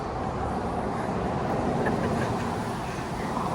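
A Portland MAX light rail train rolls along with a steady, loud broadband rumble and hiss throughout, an even ride noise with no clear breaks.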